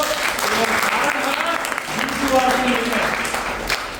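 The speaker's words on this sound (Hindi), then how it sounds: "ताली बजा सकते हो" An audience at an RCM business meeting in a hall applauds in a sustained, even wash of many hands clapping, with a voice faintly heard beneath the roar for about four seconds.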